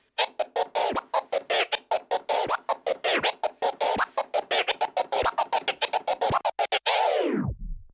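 Rapid turntable three-click flare scratching in quick, rhythmic bursts of chopped record sound, each stroke broken into several clicks, ending with a descending wind-down.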